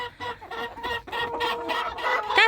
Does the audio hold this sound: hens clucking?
yes